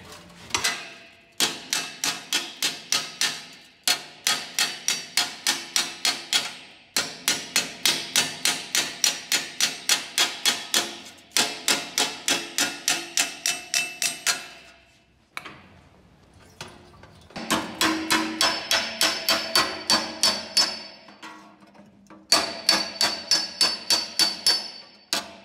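Rapid, regular hammer blows ringing on a sheet metal patch over an anvil, delivered in long runs separated by brief pauses, loud and close with a bright metallic clang.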